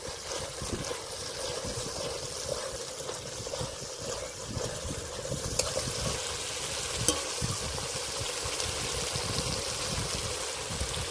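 Spiced masala with a couple of spoons of whisked yogurt stirs and fries in hot oil for katla fish kalia, a steady, close crackling sizzle with scraping stirs throughout, no voices.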